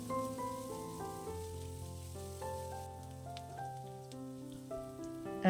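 Onions and carrot sauté in a pan for Kerala-style rava upma, a soft, steady sizzle running beneath louder background music with no talking.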